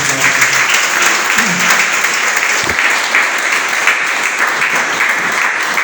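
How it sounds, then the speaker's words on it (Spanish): A church congregation applauds the Lord during an evangelical Spanish-language service, with loud, dense, sustained clapping filling the room throughout and a faint voice underneath. "Denle un aplauso al Señor."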